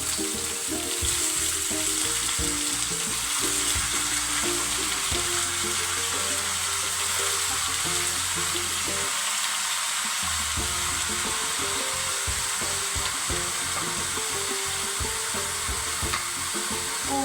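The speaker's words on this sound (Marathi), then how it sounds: "2 ते 3 सेकंद परतून घेऊया आणि मग त्याच्यामध्ये कोबी ॲड करूया" Cabbage sautéing in a pan with turmeric and salt, a loud continuous hiss of frying with rhythmic ladle scraping and stirring throughout.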